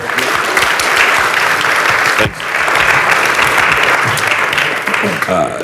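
Loud, continuous applause from a conference audience at a cannabis business event in Berlin, cheering a panel, with a brief dip midway before clapping swells again, voices mixed in throughout.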